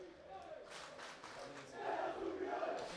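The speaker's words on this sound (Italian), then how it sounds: "i tifosi si fanno sentire con i loro rispettivi cori sia da una parte che dall'altra" Football fans chant in the stands at a local amateur match, a distant, faint crowd roar with swelling choral cries, heard from afar.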